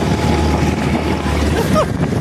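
A forty-horsepower boat engine drones loud and steady as the craft runs at sea, with wind buffeting the microphone and water rushing throughout.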